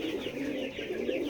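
Pigeons at a pigeon farm coo softly in a close, low, warbling call that rolls on steadily for a moment.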